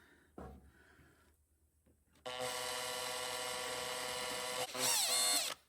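After a soft thump and a quiet pause, a greased drill bit on a power drill whines steadily at high pitch for several seconds, rising briefly near the end before stopping, on a John Deere GT225 garden tractor.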